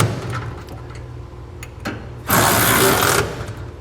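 A ratchet with a 19mm socket snugs the bolts joining a B and W gooseneck hitch's center section to its cross rails on a 2012 Ram 2500. Close, scattered clicks give way to a dense burst of rapid ratcheting.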